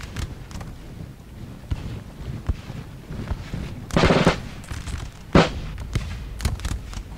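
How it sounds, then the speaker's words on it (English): Rocket volleys in a Napoleon: Total War battle, a 4v4 multiplayer clash of France against England and Austria, burst out as two loud whooshing blasts amid scattered distant gunfire and battlefield rumble, with no voices. "Oh, there goes the rockets."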